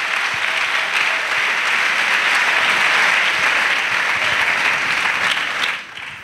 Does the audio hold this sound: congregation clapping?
yes